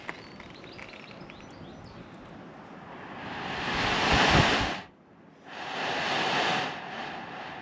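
A sea blowhole on a rocky coast blows air as waves surge into the hole beneath, building to a loud rushing whoosh, cutting off briefly, then a second gust, over steady surf and wind with faint birds.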